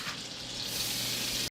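Garlic frying in butter in a wok gives off a steady, loud, close sizzle with broad hissing crackle, running alone and unbroken until a brief dip just before the end.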